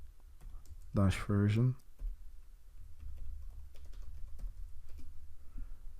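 Someone types a short command on a computer keyboard in Windows 10, the light key clicks scattered through the background after a brief spoken phrase.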